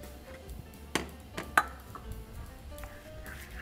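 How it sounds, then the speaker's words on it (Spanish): Rice with coconut and shrimp being stirred in a pot: a few sharp clinks of a utensil against the pot stand out over a soft, scraping background, with no talking. "Vamos a revolver todo"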